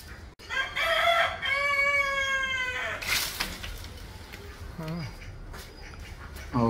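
Chickens and ducks in a home garden: a rooster crows loudly nearby, followed by scattered clucks and softer fowl calls over a low background.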